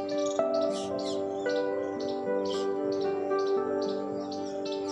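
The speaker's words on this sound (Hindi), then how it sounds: "आपको ये जो चिड़ियों की आवाज़ आ रही है, ये नेचर ही है।" Birds chirp outdoors in short, repeated bursts, moderately near, over a steady tonal hum that runs through the whole scene.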